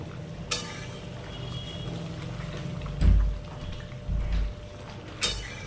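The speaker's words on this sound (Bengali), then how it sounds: "এবার আমরা একটু নাড়াচাড়া করে নিয়ে" Chicken being stirred in a cooking pan, soft scraping and sizzling under a steady background hiss, with a few louder knocks and bumps of utensil against pan scattered through, no talking.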